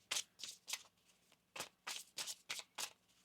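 Tarot cards being shuffled in several quick crisp riffles with brief pauses between, close and fairly quiet, no talking.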